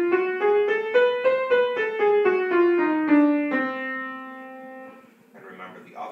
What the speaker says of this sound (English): So that kind of octatonic scale will sound like this.